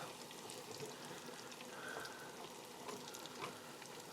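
Hot water cornbread made with Hickory King corn fries in hot grease, giving a soft, continuous sizzle with faint popping and crackling. No voices.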